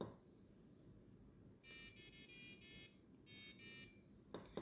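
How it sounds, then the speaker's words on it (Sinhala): An Arduino-driven passive buzzer beeps in a quick uneven run of short shrill tones, then a second short burst, faint but distinct over low background hiss. "මේක තමයි පැසිව් බසර් එකේ තියෙන වෙනස."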